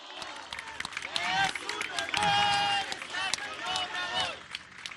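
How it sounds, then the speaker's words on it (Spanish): A crowd applauds and cheers for President López Obrador at an inauguration in Bavispe, a dense, steady wash of clapping with shouts and voices rising through it, loud and sustained throughout. "que se oiga de aquí hasta Palenque el aplauso al presidente López Obrador."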